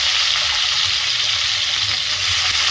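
Chopped onion, capsicum, carrot and chilli fry in a pan for chow mein, giving a steady, even sizzling hiss with no talking.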